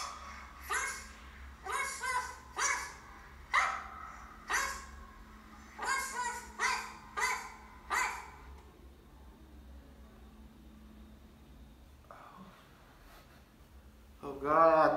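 A dog barks repeatedly in a close, loud, rhythmic series of about a dozen barks, then falls quiet before a voice speaks at the end.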